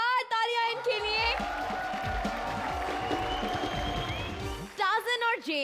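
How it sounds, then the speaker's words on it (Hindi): Clapping and cheering from a studio audience on a Comedy Circus comedy show, a sustained burst of applause in the middle with musical stingers and voices at the start and end. "जोरदार तालियां इनके लिए"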